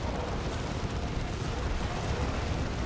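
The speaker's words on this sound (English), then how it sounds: "There's a grenade. Hits the periphery." A grenade explodes at the edge of a Warhammer 40,000 Dawn of War 2: Retribution battle, a dense rumbling boom blended into continuous loud combat noise with no clear separate blast.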